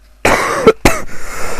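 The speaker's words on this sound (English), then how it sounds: "Oh, I'm a bit coughing." A sudden burst of coughing: a long harsh cough followed by a second sharp cough a moment later, close and loud, with a brief throat sound between.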